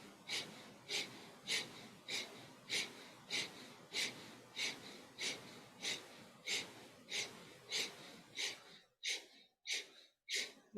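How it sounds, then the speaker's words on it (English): Breath of fire yoga breathing: a quick, even train of forceful nasal exhales, about two per second and close to the mic, turning sharper and more separated near the end. "And breath of fire."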